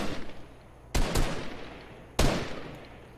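Gunfire in the video game Fortnite pops in two sharp, fairly close shots a second or so apart, each trailing off in a short echo over a low background.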